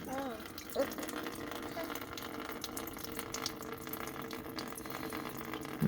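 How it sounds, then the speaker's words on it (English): Engine coolant from a vehicle called Bessie, 13.5 litres of it, drains steadily into a bucket during EGR bypass work, a continuous close trickling wash with a brief knock near the start. "Let that drip in the bucket."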